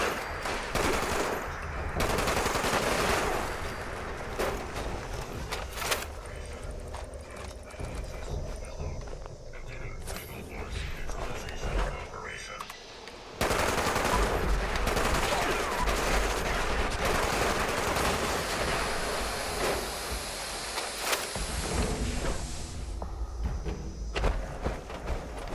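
Gunfire in the video game Fallout 76 at Fort Atlas, with dense rapid bursts of automatic fire running almost continuously under game noise, cutting out briefly midway before resuming loud and sustained.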